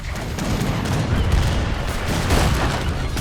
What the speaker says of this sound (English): now we see the Portuguese mortars starting to shell their way into their production